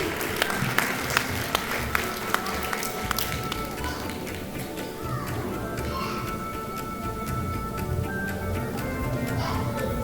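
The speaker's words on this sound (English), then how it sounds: "We can continue our blessings in the form of claps" An audience claps at the opening ceremony of a Bharatanatyam arangetram as people are called to the stage, continuous moderate applause with a few sharper nearby claps throughout.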